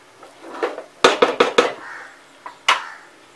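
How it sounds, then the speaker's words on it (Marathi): Boiled potatoes and eggs being tossed in a pan for an Agri-style egg bhaji: a burst of quick metallic clanks and scrapes from a spatula against the pan, then a softer knock and one final clatter. "बटाटे आणि अंडी ही उकडलेली आहेत त्याच्यामुळे आपल्याला त्याला जास्त शिजवायची आवश्यकता नाही आहे अशी परतून घ्यायची"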